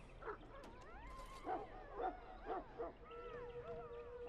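A Mabari war hound in Dragon Age: Origins gives a run of short, faint yips and barks spaced about half a second apart, with whimpering tones between them and a soft ambient backdrop.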